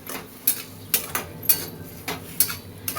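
A metal lid clinks and rattles off a pan of simmering ghevda bean curry, a run of sharp close clatters spaced roughly every half second.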